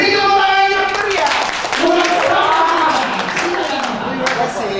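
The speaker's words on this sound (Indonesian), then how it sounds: "Beri tepuk tangan yang meriah" Applause at a government budget-planning training seminar patters steadily and densely under a loud voice and background sound, continuing unbroken throughout.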